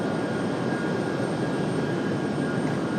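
An American Airlines jet takes off, giving a loud, steady broadband roar with a faint high whine above it, constant throughout the moment with no voices.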